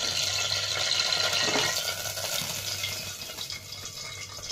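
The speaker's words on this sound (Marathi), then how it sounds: "दालचिनी, तेजपत्ता आणि लवंग आणि मिऱ्या घेतलेल्या आहेत. तेल टाकून घेतलेलं आहे." Cinnamon, bay leaf, cloves and peppercorns sizzling in hot oil for spiced masala rice, a steady bright crackling hiss, loud and close, running without a break and without talk.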